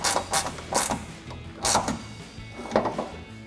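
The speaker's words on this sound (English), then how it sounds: "I'm going to be taking this angled ratcheting wrench" An angled ratcheting wrench tightens a headlight mounting bolt on a 2019-2023 RAM 1500, with a series of close, creaky ratcheting clicks in irregular bursts and short pauses between strokes.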